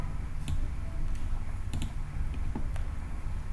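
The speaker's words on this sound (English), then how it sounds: "Hit enter key on your keyboard." Keys on a computer keyboard click a handful of times at an uneven pace, sharp close taps over a faint steady background hum.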